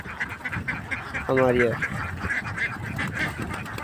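Ducks quacking on a duck farm, a burst of nasal calls in the middle surrounded by ongoing flock noise, while a person talks over it.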